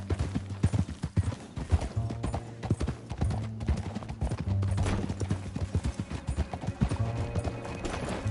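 Horse hooves clip-clopping at a steady gallop while riding in Red Dead Redemption 2, loud and close with a low music drone beneath, and a brief whinny in the mix.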